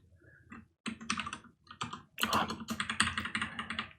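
Fingers type on a computer keyboard in short uneven bursts of close, crisp key clicks with brief pauses between, no voices.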